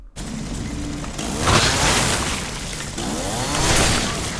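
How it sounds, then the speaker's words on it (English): A chainsaw tearing into a blob-like boss in the horror game Resident Evil 7, a loud, continuous grinding roar that surges in two heavy waves, with crunching impacts layered in. "Okay, so Blobby State, I chainsaw him more, yes?"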